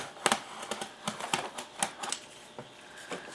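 A knife cuts through material while building a forced-air incubator, producing a close, irregular series of quick clicking, scratchy strokes that come in uneven bursts.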